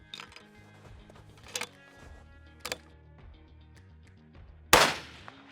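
A long-range target rifle with a very light trigger fires one sharp, loud shot near the end, after several small clicks and handling knocks.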